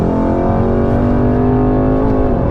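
A Mercedes-AMG E63 S 4Matic+ pulls hard on a race-track warm-up lap, its engine roaring loud and close with a steady, slightly rising rasp throughout.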